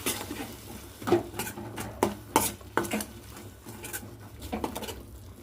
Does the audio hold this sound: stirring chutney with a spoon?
yes